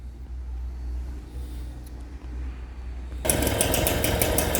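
Motobecane Mobylette moped with a T3 carburettor, engine starting up after a few seconds of low rumbling and then running with a loud, rapid buzzing putter close by.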